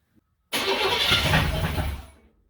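A diesel Oldsmobile 98, fire-damaged and fitted with a loosely mounted starter, cranks briefly and fires, its engine catching and running loudly and close by for about a second and a half before dying away.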